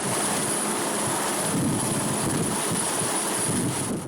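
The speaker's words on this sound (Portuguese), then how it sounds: "O helicóptero conduz os fuzileiros na missão." A navy helicopter carrying marines on a mission along the Brazilian coast gives a loud, continuous rotor and engine roar, steady and close throughout with no voices.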